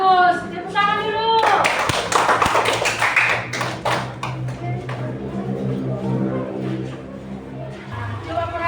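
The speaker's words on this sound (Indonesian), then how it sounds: "tepuk tangan dulu" A classroom of students bursts into a few seconds of dense hand clapping, after voices speak just before it and continue just after it.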